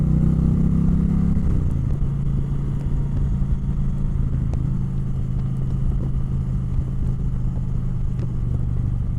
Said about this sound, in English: Loud exhaust.